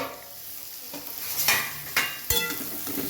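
A cabbage dish is stirred in a pot with a metal spoon, giving several sharp scraping clanks over a low sizzle, close and fairly loud, with no voices.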